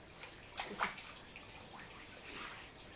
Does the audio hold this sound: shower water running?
yes